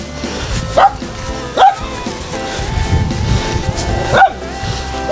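Several large dogs bark at a rural house, three loud sharp barks at irregular intervals over a background of yips, whimpers and low rustling.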